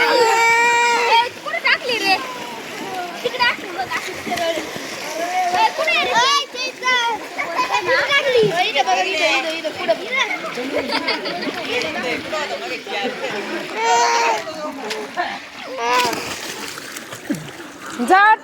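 A small child splashes while learning to swim, with continuous watery splashing, close and busy throughout, under frequent speech and children's chatter.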